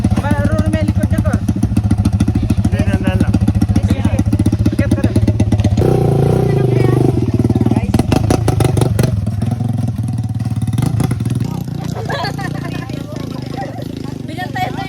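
Several motorcycle engines rev and idle nearby in a busy outdoor spot, loud rapid pulsing throttle blips then a steadier drone, with people chattering over the noise.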